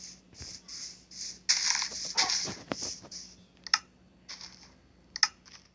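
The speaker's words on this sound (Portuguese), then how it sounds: "Um cachorro." A dog in the video game Mastercraft gives a run of short whimpering yelps and barks, close and fairly loud, mixed with quick keyboard typing and clicks.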